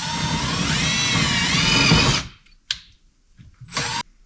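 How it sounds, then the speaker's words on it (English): A power drill fitted with a self-tapping bit whirs loudly and steadily while starting a hole to mount a speaker in a Foxbody Mustang interior, then stops abruptly, followed by two short bursts of the drill. "so I'll start the hole with the self-tapping one, and then I will screw in one of the screws that came with the speaker"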